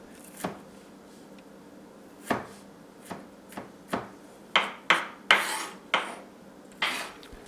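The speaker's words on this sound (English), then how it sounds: "Then slice the cloves into circles" A knife cuts through garlic cloves on a cutting board, giving about a dozen sharp, close taps at an uneven rhythm that quicken and grow louder toward the end, with no voices.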